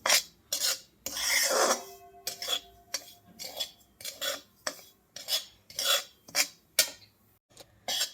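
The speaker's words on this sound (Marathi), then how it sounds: "हे बघा, अशा पद्धतीने आपल्याला हा रवा भाजून घ्यायचा आहे तुपामध्ये." Semolina roasting in hot ghee, stirred in a pan with a metal spoon: a loud, close, rhythmic series of scraping strokes and clinks against the pan, repeating roughly every half second, with no talking.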